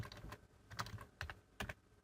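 Computer keyboard keys clacking while an email body is typed, a quiet run of uneven, close-up key taps with short pauses between bursts and no talking.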